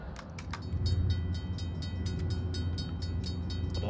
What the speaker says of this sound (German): Aber auch schön, dass wir jetzt hier die Schranken zum Beispiel hören.